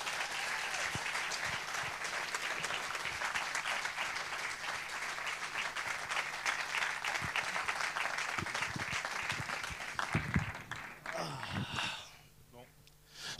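A crowd gives sustained, loud applause for a former NBA champion being introduced on stage, the clapping holding steady before thinning out and fading near the end, with a few voices and stray noises mixed in.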